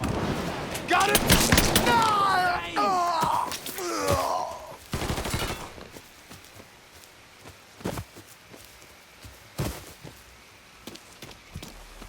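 Gunfire from the video game Mafia III comes as sharp broadband bursts and short volleys, loudest early and then sparser isolated shots, heard beneath and between excited shouting from players.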